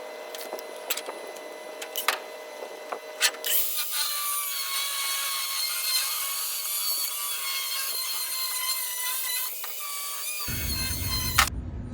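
A 3-inch steel channel is cut for a cross member reinforcement. Steady, loud, bright grinding and rasping carries on for several seconds at close range, then stops abruptly.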